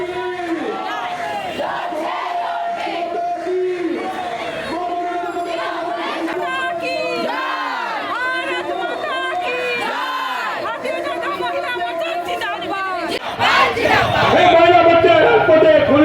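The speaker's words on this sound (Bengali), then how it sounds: "প্রতিবাদ মিছিল চলছে মেদিনীপুর সংগঠনের পক্ষ থেকে" A crowd of Mahila Morcha women on a protest march, surrounding the Kotwali police station in Medinipur, chanting slogans in loud rhythmic unison with a leader's calls and answering voices, then surging louder toward the end.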